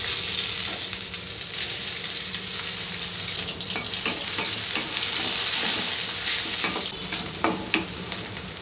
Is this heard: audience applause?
no